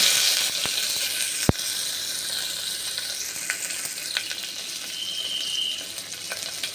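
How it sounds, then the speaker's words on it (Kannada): Garlic fries in hot oil for a tempering with mustard seeds and cumin: a continuous close sizzle with a sharp pop early on and scattered crackles throughout. "ಬೆಳ್ಳುಳ್ಳಿ ಒಗ್ಗರಣೆಗೆ ಹಾಕ್ತಾಯಿದ್ದೀನಿ"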